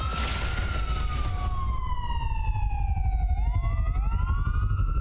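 A wailing ambulance siren from the wrestling video game WWE Champions sweeps steadily downward in pitch, then climbs and falls in overlapping wails, loud and continuous for about five seconds over a rumbling engine-like background.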